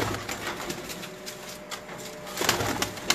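Several pigeons in a loft in Lahore, including blue birds, coo softly and repeatedly in overlapping murmurs, with rustling and light background clatter throughout.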